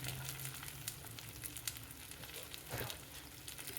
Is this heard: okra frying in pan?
yes